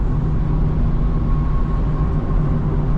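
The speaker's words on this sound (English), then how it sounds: "If I can ever get through all this damn traffic." Dense, steady road traffic rumbles in a continuous low engine drone, heard from inside a moving car, a BMW M340i, with no speech.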